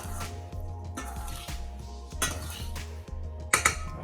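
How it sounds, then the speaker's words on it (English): A fork stirring seasoned raw shrimp in a bowl, giving quick, regular metallic clinks and scrapes against the bowl about twice a second, close and fairly quiet, with no talking. "I'm just going to use a fork to give that a stir, just to rub in those seasonings"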